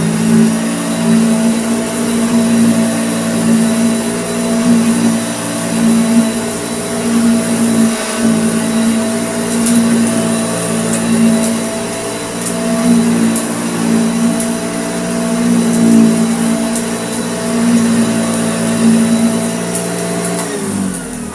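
A restored 1960s Hoover Junior 1334A upright vacuum cleaner runs on old carpet, a steady close motor whine with a faint rhythmic pulsing as it is pushed back and forth.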